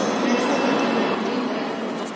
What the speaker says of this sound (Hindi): नमो भारत रैपिड ट्रेन का आगमन प्लेटफॉर्म पे होते हुए